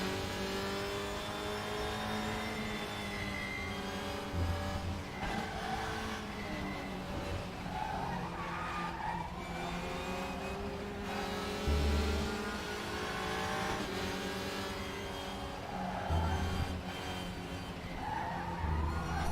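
Several WTCR touring car engines rev and accelerate hard off the starting grid at Suzuka in the RaceRoom racing simulator, a steady, strongly tonal roar with rising pitch sweeps and occasional tyre squeal, heard fairly quietly throughout.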